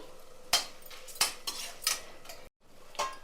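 Sharp metal spoon scrapes and taps against a pan while onion pieces fry for a curry, four or five distinct clinks over a quiet background, close and clear.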